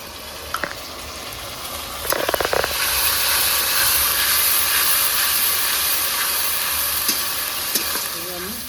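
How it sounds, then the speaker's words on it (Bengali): Ginger, garlic and green chilli paste hits hot oil with fried onions, breaking into a loud, steady sizzle and hiss after a few quick clattering stirs, continuing close and unbroken to the end. "এবার আমি দিয়ে দেবো আদা রসুন কাঁচা লঙ্কা পেস্ট।"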